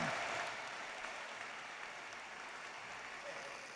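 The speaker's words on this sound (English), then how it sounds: "Let's hear it again for the OSU pipes and drums" A graduation ceremony audience applauds the OSU pipes and drums, with broad, fairly faint applause from a large crowd that swells at the start and then settles into a steady wash.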